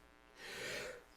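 A single faint sneeze, a brief breathy burst rising and fading within a second in a quiet room.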